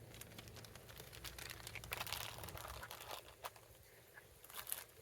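A plastic bag holding old soft fishing baits crinkles and rustles up close, with irregular crackling bursts and a low background hum, no talking.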